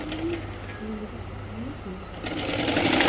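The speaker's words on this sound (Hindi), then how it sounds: "वहीं से वापस मोड़ के पूरी सिलाई जो लगाई थी हमने उसको डबल कर दीजिए" A sewing machine runs close and steady as it stitches a seam on a Patiala salwar, with its fast whirring buzz continuing throughout.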